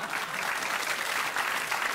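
Studio audience clapping on a live comedy panel show, a continuous, even burst of many hands filling the space at moderate loudness with no voices on top.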